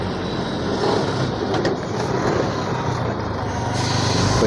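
A loaded Leyland truck with a trailer stuck in a traffic jam gives a loud, steady engine rumble amid surrounding traffic noise, with brief hissing bursts like air brakes.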